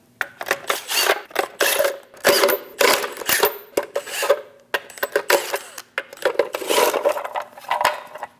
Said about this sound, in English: Using a 22mm socket, remove the 8 lug nuts.